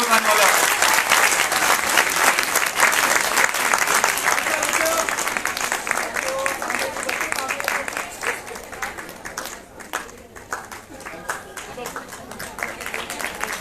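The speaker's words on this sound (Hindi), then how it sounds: "तालियां नहीं बजेंगी तो अगला पुरस्कार नहीं बताने वाला।" Sustained audience applause at a science festival prize ceremony in Uttarakhand, dense and loud at first, then thinning toward the end with a brief dip near the close.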